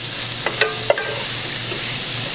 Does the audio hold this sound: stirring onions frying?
yes